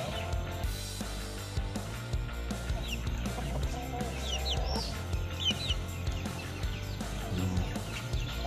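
Chicken clucking nearby on a farm, repeated short clucks and squawks over a steady low background hum.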